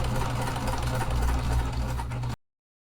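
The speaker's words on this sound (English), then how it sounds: "I am sewing with double-sided tape underneath." A sewing machine stitching vinyl with a Teflon foot and double-sided tape underneath, a steady close whirring hum with fast mechanical rattle that runs for about two seconds and then stops abruptly.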